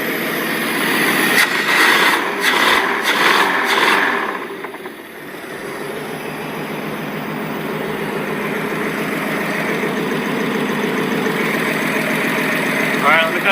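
A 1980 Dodge Aspen's slant six engine running close by, with a few sharp knocks and rattles at first before it settles into a steady, even idle hum that continues throughout.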